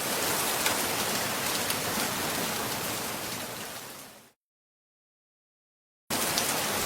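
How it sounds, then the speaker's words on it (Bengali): Steady rain pours down as a dense, even hiss for about four seconds, then cuts off abruptly into silence before resuming just as loudly. "কিরে সুজয়, আমরা তো বৃষ্টিতে ভিজে পড়ে চলে এলাম"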